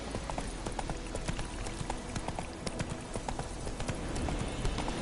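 Roach, a horse in The Witcher 3: Wild Hunt, galloping with a fast, even clip-clop of hooves over a dense, loud ambient bed.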